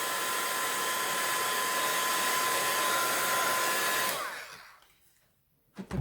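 A craft heat tool blows steadily and loudly while drying card, a continuous airy roar that shuts off after about four seconds, followed by near silence and a soft knock.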